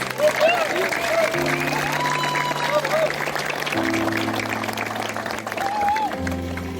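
Applause breaks out at a church baptism for a husband and wife, steady clapping and some cheering from a crowd, with voices and a sustained musical tone underneath throughout.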